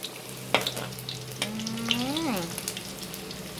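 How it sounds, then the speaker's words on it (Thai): Sun-dried snakehead fish frying until crispy in hot oil, a steady close sizzle with sharp pops and crackles, while a voice briefly rises and bends in the background. "ส้มตำกับปลาทอดแดดเดียวปลาช่อนทอดแดดเดียวจ้ะทุกคน"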